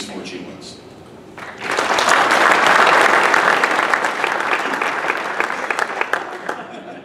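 A hall of symposium attendees at an intelligence achievement awards event bursts into applause after a short quiet lead-in, the clapping swelling loud and then thinning out gradually, with scattered voices underneath.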